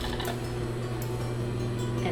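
A sewing machine stitches the inseam of fabric shorts, a continuous steady mechanical hum and whir with a rhythmic needle drone, close and even throughout.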